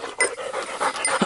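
A hunting dog out on a small-game hunt pants rapidly and close by, a steady string of quick breathy huffs with no talking over it.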